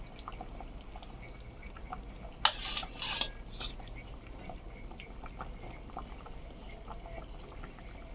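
Thick pieces of hilsa fish slip one by one into a pot of boiling water, giving a brief cluster of soft splashes and drips midway over a steady low bubbling background, with no voices.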